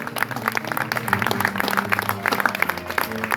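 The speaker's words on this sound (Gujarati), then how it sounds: "જોરદાર તાળીઓથી અનુમોદના કરો પુણ્યશાળી" An audience at a death-anniversary gathering in Palitana claps together in dense, continuous applause, heard fairly close over a faint tonal background.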